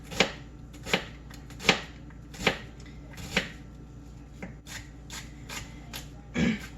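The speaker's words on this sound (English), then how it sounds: "I'm just doing this sort of like a fine dice." Knife finely dicing vegetables for a creamy cabbage and sausage soup, a series of sharp, separate chops against a board at an irregular, unhurried pace, close and clear with no talking.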